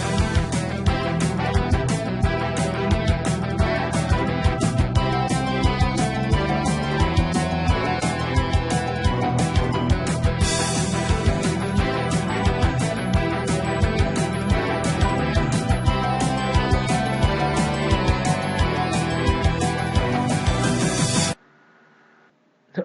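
A dense, driving JRPG battle theme made in FL Studio plays loud and full, its bassline running steadily under busy layered instruments for about twenty seconds before cutting off abruptly into near silence.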